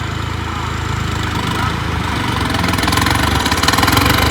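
Two tractor engines, a John Deere and a New Holland, drone loudly in top gear at high revs with a steady rumbling throb that swells slightly toward the end; no speech.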